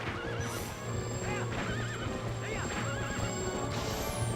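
Repeated shrill whinnies from a galloping horse in The Legend of Zelda: Twilight Princess HD ring out several times over rhythmic hoofbeats and a busy in-game music bed, ending with a swooshing sweep.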